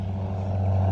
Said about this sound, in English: Right there, there you go. You can see the airplane.